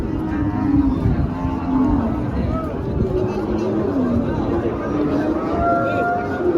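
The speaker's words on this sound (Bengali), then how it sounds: "এখানে অনেক গরু, এই যে একটা গরু অনেক কত বড়" Cattle lowing on a crowded farm, several long moos rising over a steady murmur of people talking and a continuous rumble of the herd nearby.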